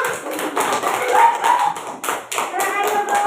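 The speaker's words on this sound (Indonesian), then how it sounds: "Kasih tepuk tangan untuk semuanya." A classroom of students breaks into applause, a dense patter of hand claps and taps that rises and falls, with voices mixed in.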